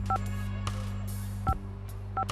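Several short electronic telephone keypad tones sound in quick pairs and singles over a steady low hum, with brief pauses between presses.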